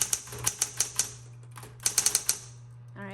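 A 1970s gold metallic Smith-Corona Electra 120 electric typewriter clacks out two quick runs of about half a dozen crisp keystrokes each over a low motor hum, with a brief mechanical whir at the end.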